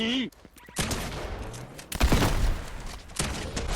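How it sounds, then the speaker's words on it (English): Gunfire in the video game Fortnite, a burst of rapid shots crackling in the middle of a hectic mix of game effects, moderately loud, with a voice briefly heard around it. "I think there's someone else shooting at me."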